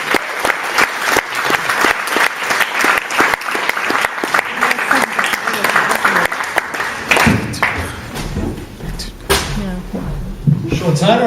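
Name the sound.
audience applause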